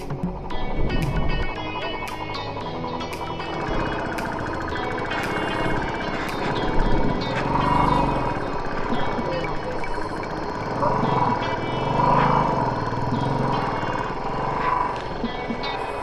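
Motorcycle engine straining and revving while the bike sits stuck on a rough high-altitude mountain track, a continuous loud mechanical drone with surges, heard close alongside voices talking.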